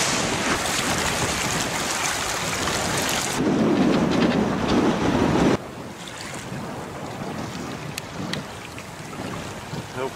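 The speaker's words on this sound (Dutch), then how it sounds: "Heerlijk aan het varen." Boat under way on open water near Ameland, with rushing wind and a constant wash of water against the hull, loud and continuous, its texture shifting abruptly twice.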